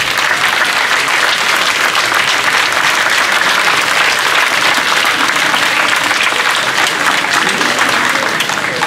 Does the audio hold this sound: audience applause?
yes